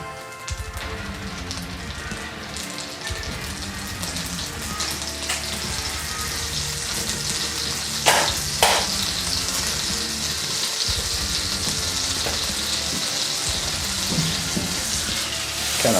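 Butter sizzles and crackles steadily in a hot pan while portabella mushroom burgers cook, a constant frying hiss close by with a few sharp clatters and scraping bursts partway through, no voices.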